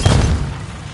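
A stun grenade detonates in a shooter video game, a single loud, wide-band blast that hits at once and fades over about a second.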